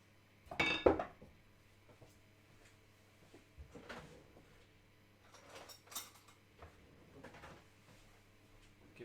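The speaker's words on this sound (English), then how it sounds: "Give that a stir." Lemon and parsley sauce being stirred in a pan, with a loud metallic clatter of utensil on pan at first, then scattered quieter scrapes and clinks against a quiet room.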